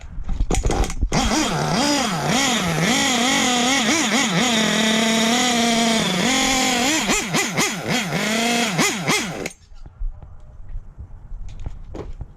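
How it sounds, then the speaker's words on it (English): A dirt bike or small motorcycle engine, tuned to lean out the low end, runs loud and close, revving up and down in wavering surges for about nine seconds before cutting off abruptly, leaving quiet background noise. "When you lean out the low end, it revs the idle up."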